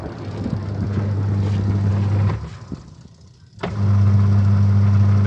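A washing machine's wash motor, newly fitted with a replacement capacitor, hums steadily as it spins, briefly drops out and then starts up again with a loud, close, even drone.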